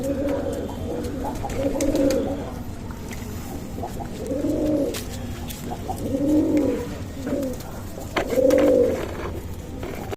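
Pigeons bathing in potassium-treated water coo in repeated low, rolling bursts, about five distinct calls spaced a second or two apart, fairly close, over a steady background hum.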